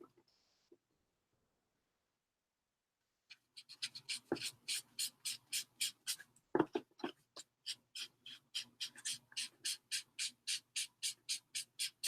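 Frayed burlap is rubbed hard over paper to work in Distress ink, giving a steady run of close, dry, scratchy strokes in a regular back-and-forth rhythm after a short silence.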